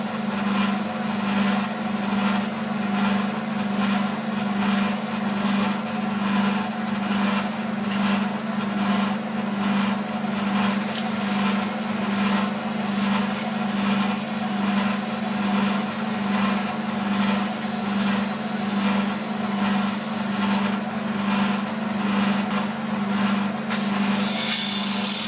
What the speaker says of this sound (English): Here I am using one of the Norton abrasive sponge pads.